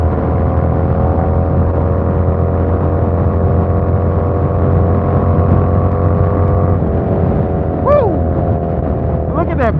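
Harley-Davidson Sportster motorcycle cruising on a highway, a steady loud engine drone with rushing wind throughout, plus a few brief higher whistling tones near the end.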